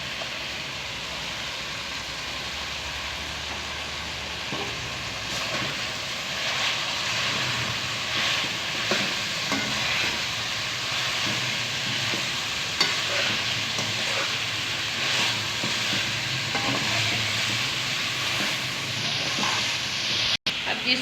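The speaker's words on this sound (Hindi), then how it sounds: "अब हम बाकी की सारी वेजिटेबल ऐड करेंगे और बस इन्हें 1 मिनट के लिए पकाएंगे।" Vegetables stir-fry in a hot pan for a chicken and vegetable spaghetti, a steady close sizzle and hiss broken by repeated scraping stirs, with soft voices faintly underneath.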